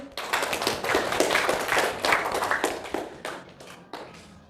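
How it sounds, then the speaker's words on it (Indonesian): Applause from a classroom group welcoming a presenting group at an Islamic religious education teaching session, a few minutes of moderately dense hand clapping that stays steady for several seconds, then thins out and fades near the end. "Tepuk tangan untuk kelompok 1."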